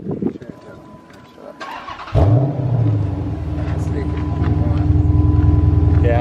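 A Dodge Charger SRT8 Super Bee starts up with a sudden loud crank, then settles into a deep, steady rumble that grows slightly stronger toward the end, heard up close.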